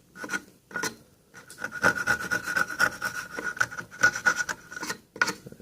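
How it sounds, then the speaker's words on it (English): A thin chisel scraping and rasping out the bottom of a slot cut in wood, a close run of short, rhythmic scratching strokes with brief pauses. "We now need to take the thinner chisel to get into the bottom to clean that up."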